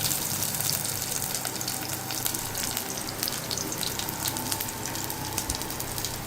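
Garlic fries in a pan with fenugreek seeds, giving a loud, steady sizzle with crackly pops that runs the whole time, close up and without talk.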